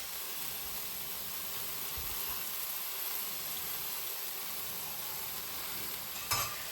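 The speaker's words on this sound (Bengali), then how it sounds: "এটা জাস্ট করলা ভাজি করব রেগুলার আমরা যেভাবে খাই" Sliced home-grown bitter gourd fries with onion, turmeric and salt in a pan, giving a steady, even sizzle and hiss throughout, with a single brief clack of a utensil near the end.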